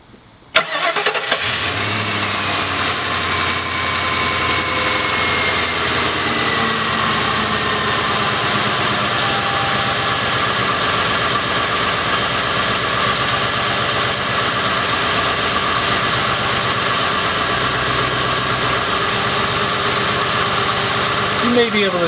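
A car engine on an automotive lab bench cranks and catches after a brief quiet opening, then settles into a loud, steady idle with a constant hum that lasts to the end.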